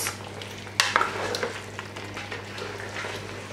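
Curried chicken stirred in a pot, with a sharp spoon clank against the metal, then a few quick scraping stirs over a steady close simmering sizzle, and no voices.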